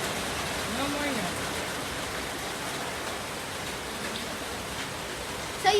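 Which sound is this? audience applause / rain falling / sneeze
rain falling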